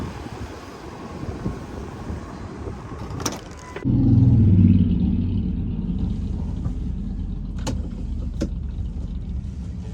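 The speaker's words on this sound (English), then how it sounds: "Motorcycle going by, quite fitting for this video." A motorcycle engine swells into a loud, rumbling pass nearby, then lingers as a steady drone fading slowly; no voices.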